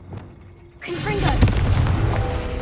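A Confringo explosive spell bursts in Hogwarts Legacy with a sudden loud blast that rolls into a sustained rumbling roar and crackle, lingering for a couple of seconds.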